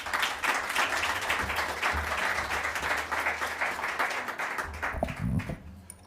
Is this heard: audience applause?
yes